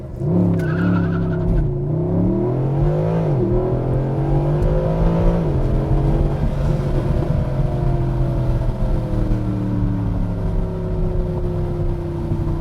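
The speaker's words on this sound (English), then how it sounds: "this is basically what Mercedes-Benz calls race start. Basically hit the brake and gas. It's going to rev it." A Mercedes-Benz SLS AMG in race start mode, held on brake and throttle, revs loudly and steadily with sweeping engine harmonics rising and falling, a continuous close, powerful roar filling the whole stretch.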